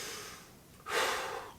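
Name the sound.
deep breath during home workout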